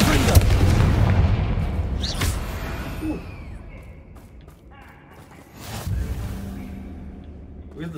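Confringo spell explosions in a video game, several booming blasts with whooshing bursts, loud at first and then spaced out, alongside a few faint game effects.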